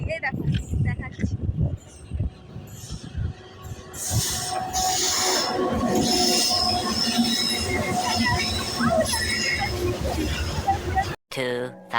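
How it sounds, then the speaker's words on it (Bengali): A freight train rolls past close by on a railway line, with a heavy rumble of wagons and squealing wheels building over several seconds, and some voices nearby. "এখানে রেল লাইনের ধারে আসার পরে দেখছি রেল মানে ট্রেন আসছে, তোমাদেরকে দেখাচ্ছি ট্রেনটা"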